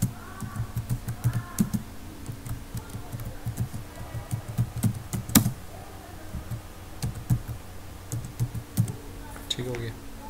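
Computer keyboard typing while an online application form is filled in, a steady run of light clicking keystrokes with brief pauses, heard under someone speaking throughout.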